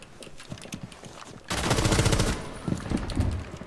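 Rapid gunshots from a competitive shooter game, a loud close burst of automatic fire that erupts midway and continues in choppy volleys over softer in-game footsteps and clatter.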